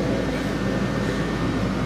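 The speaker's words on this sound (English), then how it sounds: "But I am on the train, so that's good." Steady low rumble of a passenger train in motion during a roughly 40-minute ride, a continuous close drone with no talk.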